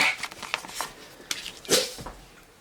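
A single quick human sneeze bursts out close by in a quiet room, sharp and breathy, standing alone without talk.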